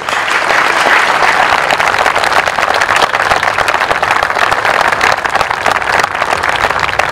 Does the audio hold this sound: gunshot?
no